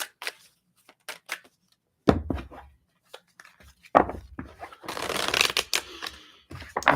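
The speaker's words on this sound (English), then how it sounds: "So I spend a lot more time shuffling the actual tarot cards than I do the angel cards." Tarot cards are shuffled by hand in bursts of quick riffles and soft slaps, with brief pauses between them and a longer, denser shuffle toward the end, close and moderately loud.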